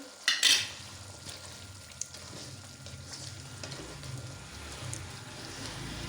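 Spices such as dry coriander powder and cumin powder being stirred into chicken karahi in a pan, with soft scraping and a light sizzle after a brief clatter of the utensil at the start, fairly steady and close.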